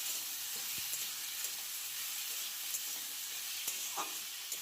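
Potato curry stirred as it fries in oil, giving a steady close sizzle with soft scraping stirs and occasional light clicks of the spoon; no voices.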